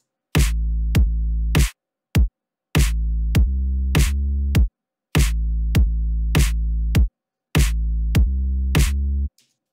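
A soloed kick drum, snare and sub bass from a loud mix play together in a repeating pattern: deep booming sub hits with punchy kicks and sharp snare cracks, loud and alone with brief silent gaps.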